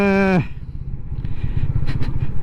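A Royal Enfield Meteor 350 motorcycle being ridden in sub-zero cold after a service and clutch adjustment, its engine a steady low thumping rumble, close and fairly loud, with a brief tonal whine cutting off at the start.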